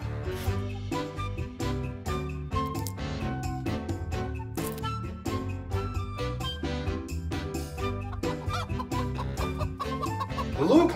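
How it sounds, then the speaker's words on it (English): A chicken clucks repeatedly in short, close, steady bursts for the whole stretch, with no talking over it. "It's a chicken, Dad."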